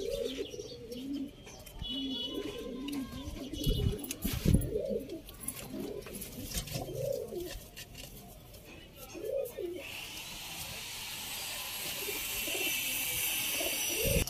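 Pigeons, including adult breeding pairs kept in a loft, give repeated soft, rising-and-falling coos near the microphone over steady background noise, with a few faint chirps and a brief flutter.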